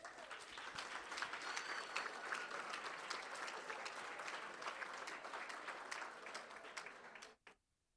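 A school board meeting audience breaks into sustained applause honoring students, dense steady clapping from a crowd that runs for several seconds before cutting off abruptly near the end.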